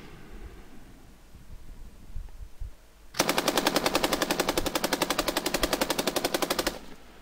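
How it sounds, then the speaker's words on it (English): After a few seconds of faint rustling, a burst of rapid automatic gunfire from real guns, recorded on an amateur microphone, erupts, loud and harsh with distorted rattling shots, then cuts off. "this is how real guns sound"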